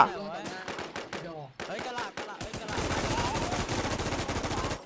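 Rapid automatic gunfire from a QBZ rifle in a video game match, a dense sustained burst filling the second half after scattered shots, with voices talking over the start.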